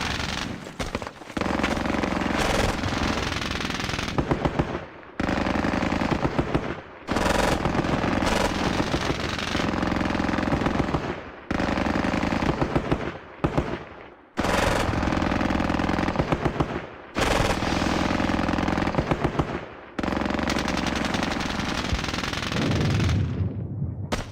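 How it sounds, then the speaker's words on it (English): Bursts of MG42 machine gun fire in the Squad Battles Eagles Strike war game, loud sustained rattling volleys of several seconds each separated by short pauses, repeating through the whole stretch with no talking. "These MG42s, they are set up so they are either medium, considered as medium or heavy machine guns."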